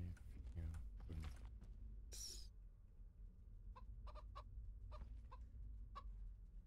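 A chicken in the video game SkySaga: Infinite Isles gives several short, faint clucks in the second half, spaced out over low background noise and a few earlier clicks.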